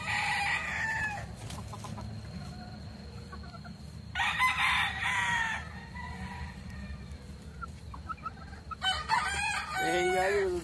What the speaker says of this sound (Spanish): Es el gallo que tú tienes que ver por el traje.